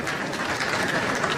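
Applause from the audience at a university graduation convocation, a dense, steady wash of clapping that stays even and continuous throughout, with no voices rising above it.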